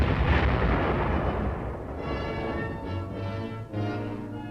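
A 105mm howitzer firing direct fire opens with a heavy, booming blast that rolls away over several seconds, leaving a fading rumble and a sustained mechanical drone afterward.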